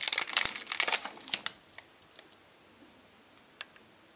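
A plastic packet holding an 18-gram casting spoon lure crinkles and rustles in a run of crisp bursts for about a second and a half, then falls mostly quiet with one small click near the end.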